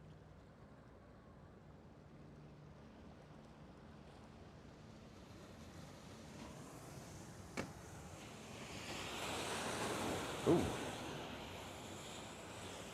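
Ocean surf at Port Canaveral as cruise ships sail away rises gradually into a broad rushing swell amid wind noise, with a brief voiced exclamation near the peak.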